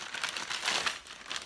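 A delivered book package being opened with scissors: a short burst of close crinkling and crumpling of plastic or paper packaging, with no talking.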